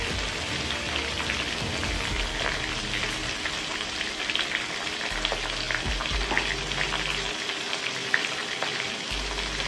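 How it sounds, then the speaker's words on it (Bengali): Potatoes and pointed gourd crackle and hiss steadily in hot oil, a dense close sizzle with occasional scraping stirs, no voices. "আমি পটল আলুটা লাল করে ভাজা ভাজা করব।"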